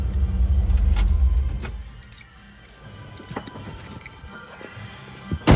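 A 1957 Chevrolet Bel-Air engine idling loudly for about two seconds, then cutting off, leaving faint ticking and small clicks, with a sharp thump at the very end.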